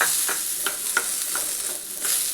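Chopped onions sizzle steadily in oil in a hot pan with chillies, and soft stirring strokes scrape through the continuous frying hiss.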